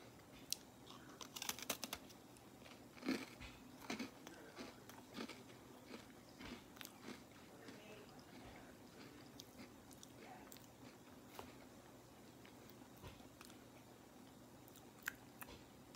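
Someone bites into and chews an Oreo Red Velvet cookie with cream cheese flavored filling, producing quiet, close crunches and soft mastication sounds, busiest early and then sparse.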